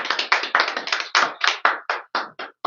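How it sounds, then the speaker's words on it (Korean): A small group claps during a preaching seminar lecture, giving a brief burst of sharp, distinct hand claps that thin into a few separate slaps before stopping. "박수"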